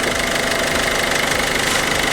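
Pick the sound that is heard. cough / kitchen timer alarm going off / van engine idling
van engine idling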